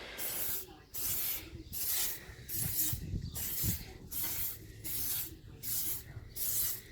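Lacquer sprays from a can onto a Toyota Yaris Mk1 car part in repeated short hissing bursts with brief pauses between them, close and fairly loud.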